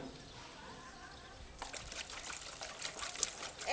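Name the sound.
water poured over plant leaves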